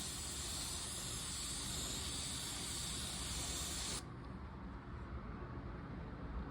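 A paint spray gun hisses steadily as it lays colour onto a car panel, a loud continuous broadband spray that cuts off abruptly partway through, leaving only a quieter room hiss with no voices.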